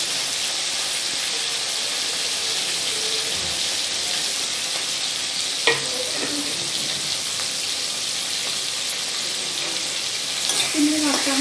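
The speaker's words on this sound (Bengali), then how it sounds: "কড়াইয়ে আমি সাদা তেল দিয়েছি, তেল আমার গরম হয়ে গেছে। আমি চিংড়ি মাছগুলো ভেজে নেব।" Prawns fry in hot white oil in a wok, giving a steady, close, continuous sizzle and crackle that runs unbroken throughout with no talking.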